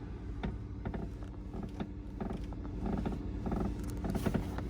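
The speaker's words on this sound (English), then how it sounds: "The seat definitely makes a lot of creaking and cracking sounds." Creaking and cracking from the driver's seat of a 2019 Dodge Charger R/T Plus, heard as repeated short creaks over a steady cabin hum from inside the car.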